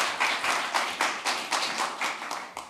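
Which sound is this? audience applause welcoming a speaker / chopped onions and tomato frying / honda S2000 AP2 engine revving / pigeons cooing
audience applause welcoming a speaker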